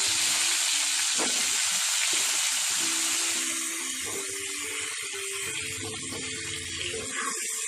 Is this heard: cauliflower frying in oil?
yes